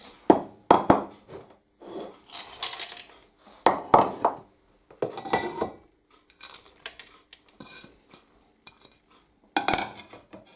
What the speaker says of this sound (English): So then add all the contents to the pan.